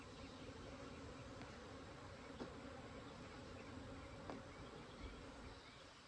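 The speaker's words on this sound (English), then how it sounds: "these bees are more aggressive than the other hive" A dense, steady swarm of bees buzzing around a hive being robbed, a continuous close drone with a few brief louder passes.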